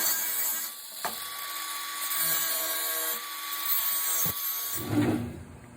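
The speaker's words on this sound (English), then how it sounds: "I'm going to use a angle grinder with a cutoff wheel." Angle grinder with a cutoff wheel cutting tubing for an ornamental iron gate, a sustained high-pitched whine with a couple of brief knocks and a gritty surge near the end.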